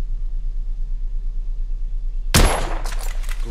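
A single loud rifle shot, fired through a scope in the shooter game The Order 1886, cracks out suddenly after a low steady hum and leaves a short ringing tail.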